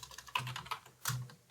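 Quick, light keystrokes on a computer keyboard as code is typed, a short, close burst of several clicks with no voices.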